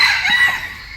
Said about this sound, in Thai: อันนั้นมันเป็นไก่ดุไหมอ่ะ